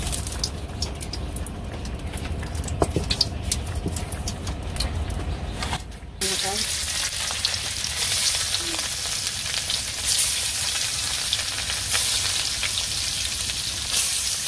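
Fish sizzles in pure mustard oil with a continuous, dense crackle that turns brighter and louder partway through, close up with no talk.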